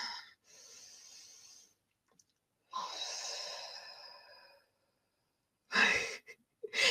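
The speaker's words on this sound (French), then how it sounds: "je te vois bâiller" A person in a seated or standing breathing exercise yawns, letting out long airy exhalations with a drawn-out vocal tone, followed after a pause by a sharper breathy burst, all heard close and with no other sound.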